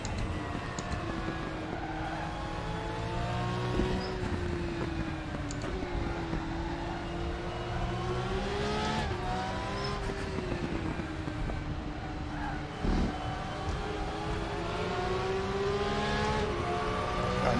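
A Porsche race car engine in the RaceRoom racing game drones and revs continuously, pitch rising and falling through gear changes on a bumpy stretch of track, loud and steady throughout.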